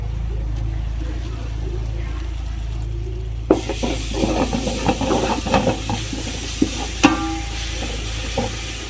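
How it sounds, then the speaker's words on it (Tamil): Ginger garlic paste, about 450 grams of garlic and ginger, sautéing in a pan for homemade biryani paste, a steady frying hiss under a low hum, with stirring scrapes and clatter growing louder after a quiet start. "நானூற்றம்பது கிராம் இஞ்சி பூண்டு பேஸ்ட்டு சேர்த்துக்கிறோம்"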